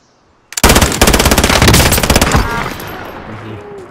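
Loud automatic gunfire in a shooter video game, a rapid burst of close, repeated shots lasting about two seconds before fading into echoing reverberation.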